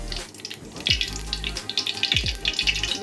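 Ghee and oil poured into a hot kadai produce gurgling, watery pouring with bright crackles of heating fat, uneven bursts over a low background, close to the listener.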